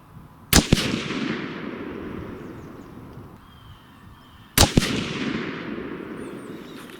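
Two sharp rifle reports from a Savage 111 chambered in .270 Winchester firing Barnes 130 grain TSX loads, about four seconds apart, each loud blast trailing off in a long rolling echo outdoors.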